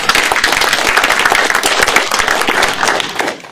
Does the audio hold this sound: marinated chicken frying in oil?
no